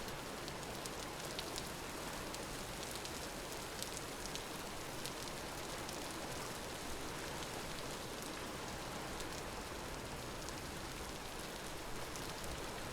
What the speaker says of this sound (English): The rain is dancing on the water as well.